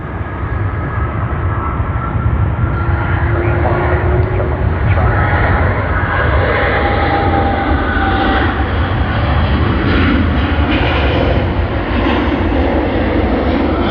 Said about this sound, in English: That was the Chinese silk ribbon livery of Juneyao A to Shanghai Pudong Airport.